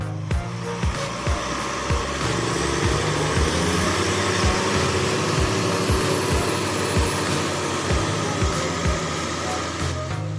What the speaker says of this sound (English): The 350 hop Caravets tractor versus the 240 AP military truck, engines roar